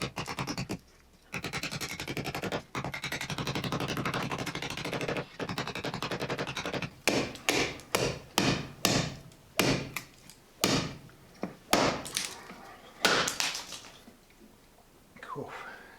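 A small carving knife shaves tough wood in a series of sharp, rhythmic scraping strokes, close and fairly loud, first in a steady run and then as distinct separate cuts.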